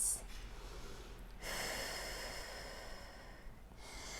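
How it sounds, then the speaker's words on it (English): Soft, deep breaths drawn in and let out during a Pilates hamstring stretch, close and quiet, with a sharp intake at the start and a long exhale. "Nice deep breaths."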